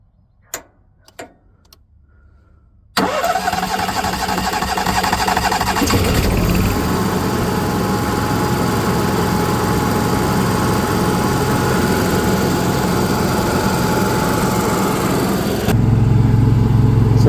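An Onan QG 5500 LP generator running on liquefied petroleum in an RV cranks over after a few faint ticks, catches, and settles into a steady, loud engine drone that runs continuously to the end.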